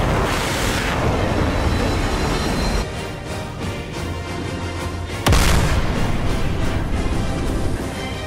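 Missile launches and explosions during a naval carrier strike group combat video game against a Chinese fleet: a loud, continuous roaring boom that drops back around the middle, then a sharp blast and a renewed roar toward the end, with no talk.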